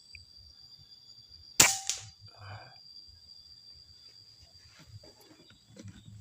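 A single sharp gunshot cracks out loudly, followed by a brief echo, amid quiet background noise and soft speech.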